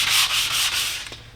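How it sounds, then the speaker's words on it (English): Sandpaper of 220 grit rubbing across a polyurethane-coated cabinet surface in steady back-and-forth strokes, close and fairly loud, with a low hum underneath and no talking. "Using 220 sandpaper, getting ready for the second coat of polyurethane."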